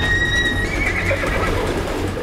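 A horse swimming in a river neighs loudly after being startled, a high whinny with a strained pitch that drops and breaks up over about two seconds, with splashing water noise underneath.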